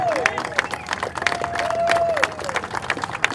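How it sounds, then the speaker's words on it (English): Crowd applause at an outdoor political rally in Washington DC, with dense continuous clapping and a few cheers, loud and close, lasting throughout. "let's have a round of applause for those who went to the prison"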